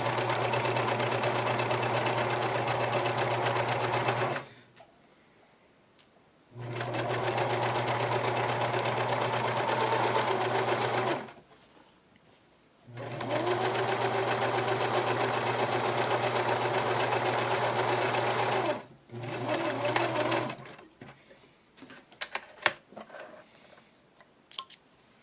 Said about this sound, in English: you're just going to sew across the top. Don't forget to reverse stitch.